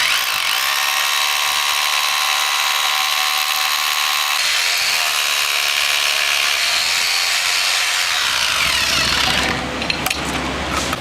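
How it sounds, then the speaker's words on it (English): A power drill whines steadily at high pitch for several seconds while drilling a hole for a post mount on a flat surface, loud and close, shifting tone near the end as it bites through material. "Center your drill bit in the hole, and,"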